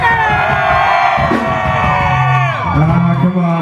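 A concert crowd cheers and whoops in response to a call to make noise, a loud, sustained roar of voices with rising yells and whistles, close and dense, swelling again toward the end.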